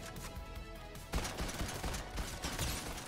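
Rapid gunfire in a Fortnite match, a bursty string of shots that grows denser and louder partway through, fairly distant and low in level over game background sound.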